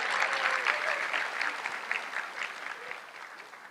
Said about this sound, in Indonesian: Boleh tepuk tangan kalau mau.